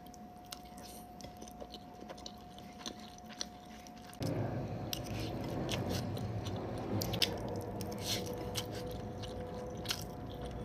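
Someone eating lechon sisig with egg and rice up close, with steady wet chewing, smacking and crunching that grows louder and denser partway through, and no talking.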